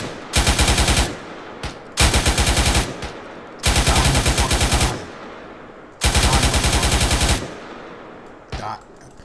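Several long machine gun bursts fired toward a town with a minaret during a military field exercise, loud and close, four sustained strings of rapid shots separated by short pauses, then a brief final burst.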